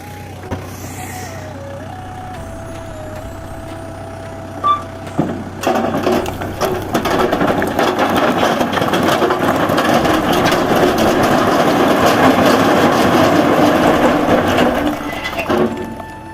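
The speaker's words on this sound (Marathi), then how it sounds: "हा ट्रॅक्टर चालला." A tractor working in a field is quiet at first, then after a sharp knock its engine comes in loud and near with rattling and clattering, staying heavy for about ten seconds before easing off at the end.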